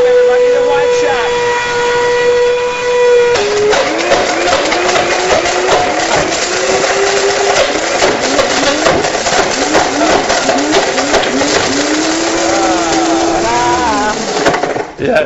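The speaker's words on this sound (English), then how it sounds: "the blender that can eat a rake" A high-powered blender grinds up a garden rake during a live TV demonstration, a loud harsh whine that jumps in pitch and then churns with rattling clatter and sliding tones for about fifteen seconds, with no clear speech.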